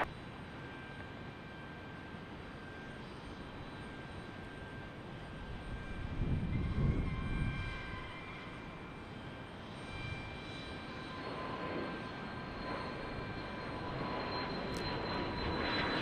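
A Gulfstream G650 jet at an airport runway, heard as a distant, steady engine roar and broad hiss that swells briefly and then settles into a low continuous rumble, with no voices.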